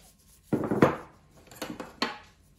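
Cooked lentils tipped from a container into salad dressing in a bowl: a few short scraping, clattering bursts of spoon or dish against the bowl, close and fairly quiet, with no talking.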